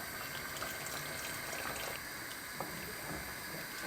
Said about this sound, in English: It's gonna need more water, about 2 cups more.